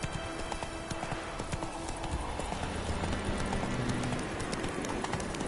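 Roach, a horse in The Witcher 3 game, gallops in a steady rapid clip-clop of hooves, close and continuous, with faint ambient wind and game background sound.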